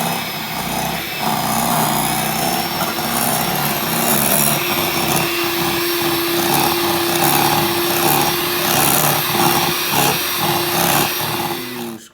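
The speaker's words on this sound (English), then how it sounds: "if you have one, you can use an electric mixer" An electric mixer creams eggs, egg yolks and sugar in a bowl, giving a steady, close motor whine with a rhythmic scraping churn that runs for several seconds and stops abruptly.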